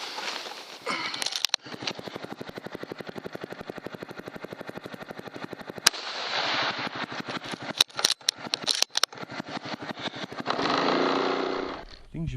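A Can-Am X3 side-by-side buggy drives through rough outback country on a pig hunt, its engine droning and revving in pulsing bursts with sudden jolts and rattles, loud and close.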